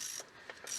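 Ratchet tightening sump bolts on a Fiat Multipla, giving a short, quiet burst of metallic clicking with a couple of pawl ticks in quick succession.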